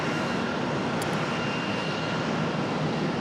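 An American Airlines A320 jet arrives at the airport on the far runway, a steady, broad engine roar that holds at a distance for the whole stretch.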